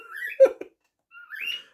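A pet bird sings indoors in two short bursts of chirpy, whistled notes with a brief pause between, fairly close and moderately loud, with no talking.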